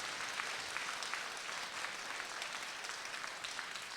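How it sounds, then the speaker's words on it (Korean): Applause at a Buddhist dharma service at Jogyesa temple spreads through the hall. The clapping is steady and fairly distant and stays quiet throughout. "이분들을 위해서 박수 한번 보내주시기 바랍니다"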